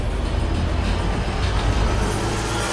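An elevated L train passing in the open-world game Watch Dogs: a steady, loud low rumble and rattle of rail cars rolling by, continuous throughout with no voices.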